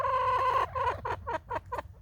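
Garden hens cluck close by in February: one long, drawn-out call followed by a quick string of short clucks.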